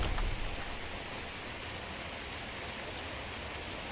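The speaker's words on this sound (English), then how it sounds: "Seems like the rain is quieter when we're outside than when we're inside." Rain falls steadily in the video game Skyrim, a constant, fairly quiet hiss of drops on surfaces with no pauses, heard outdoors.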